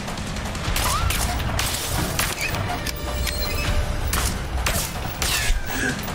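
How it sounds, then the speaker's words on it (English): Gunfire in the video game A Way Out: a dense, continuous barrage of loud shots and impacts runs throughout, with no clear gaps. "How many bullets does that guy have?"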